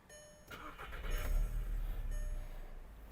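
A 2005 Skoda Octavia A5 1.6 MPI petrol engine cranks and catches, then settles into a low, steady idle rumble, heard from nearby.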